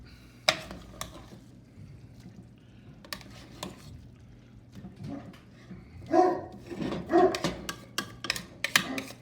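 A dog barks in scattered bursts, a few sharp woofs early and a louder cluster later, amid kitchen clatter and a pouring sound while shepherd's pie is made.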